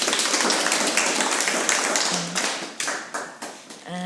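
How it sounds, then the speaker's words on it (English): An audience applauds at a storytelling event in Manipur: dense, steady clapping that thins into scattered claps and fades toward the end. "Can we give him a clap?"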